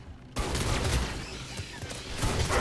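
Rapid gunfire in Mass Effect 3 multiplayer, a dense, fast burst of shots that starts abruptly and carries on loudly for a couple of seconds.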